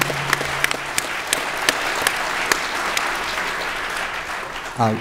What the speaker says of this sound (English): I'd love for you guys to give a big round of applause for this great panel.